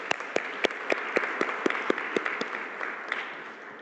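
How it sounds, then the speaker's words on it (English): A seminar audience applauds the speakers with a thin, scattered round of claps. Individual sharp hand claps stand out over a softer patter, tapering off toward the end. "Let us give our thanks once again to the honorable speakers with a big applause."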